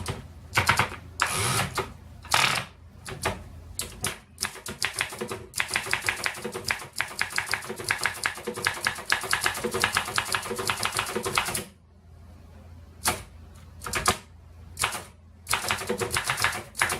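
A 1927 Remington #2 portable typewriter typing, with crisp rapid key strikes in fast bursts, a brief pause near the end, then more clattering keystrokes, close and clear with no voices.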